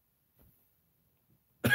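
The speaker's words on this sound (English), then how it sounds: "I have been coughing. I've been trying to hold it back, but I can't." A single sharp cough bursts out at the very end after near silence, preceded by a couple of faint throat sounds.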